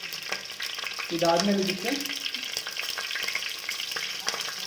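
Green chillies frying in oil for Indian-style egg fried rice, a close, continuous sizzle with light stirring clatter, under brief talk.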